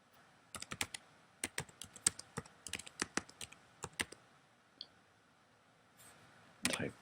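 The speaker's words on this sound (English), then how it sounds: "Type this all in here quick." Keyboard keys tapped in quick irregular bursts while a website address is entered, close and fairly quiet, with short pauses between clusters and a brief rustle at the end.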